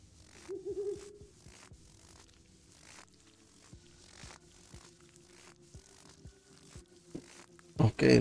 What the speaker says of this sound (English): Okay, look at that bird. Is that an owl?